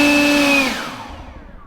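Kobalt 40V cordless leaf blower, model KLB 1040B-03, running on turbo speed: a loud, close whine that holds steady and then winds down, fading out toward the end.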